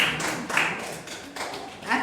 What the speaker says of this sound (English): Everybody give her a hand clap.